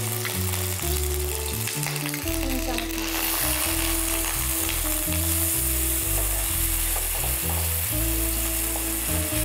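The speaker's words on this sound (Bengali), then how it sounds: "এটা একটু পেঁয়াজ একটু ভাজা হয়ে গেছে" Onion paste fries in a pan with a steady, loud sizzle that runs unbroken throughout, layered under background music.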